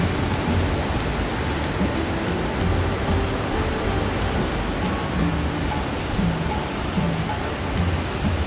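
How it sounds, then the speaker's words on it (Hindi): Bhagirathi river at Gangotri rushing behind a hotel room, a steady broadband roar of fast mountain water, close and continuous with no voices. "हमारे होटल रूम के पीछे से ही भागीरथी नदी बह रही थी।"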